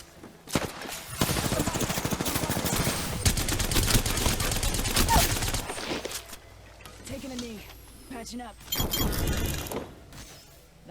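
Video game gunfire from enemy soldiers: dense bursts of automatic shots and shattering impacts in rapid fusillades, loud and close, with a player talking over parts of it.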